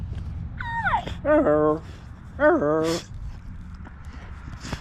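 A small dog whines and yelps in a few rising, wavering bursts, close by in a workshop, with quiet shuffling between them.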